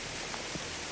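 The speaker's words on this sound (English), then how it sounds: "Pure torrential downpour." Torrential downpour hisses as a dense, even wash of rain, loud and unbroken for about a second with no voices.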